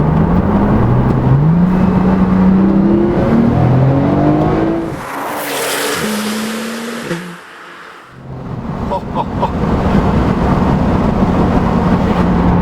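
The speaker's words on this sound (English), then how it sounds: "you can always hear the turbos in this car" A 2014 Porsche 911 Turbo S (991) accelerates hard through rising gears, its engine note climbing in stepped pulls with turbo whoosh and whistle, then easing off briefly before pulling again, loud and close from inside the cabin.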